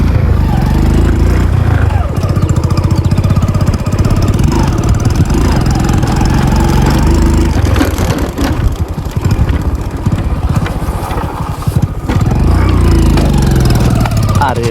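A dirt bike rides off-road across farmland, its engine droning loudly and steadily at close range, with revs swelling and dipping throughout and voices talking over it.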